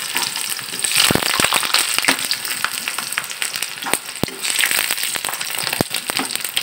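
Peanut pakora sizzling steadily in hot oil, a dense crackling hiss with sharp pops scattered throughout, close and loud, with no one speaking.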